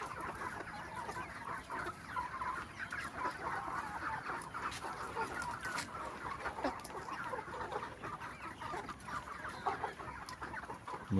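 Chickens cluck continuously at a poultry farm, several birds close by with overlapping busy clucks and short calls over a low background, no talk.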